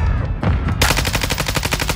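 Rapid automatic gunfire from a first-person shooter video game, loud and close, a quick burst followed by a steady rattling stream of shots.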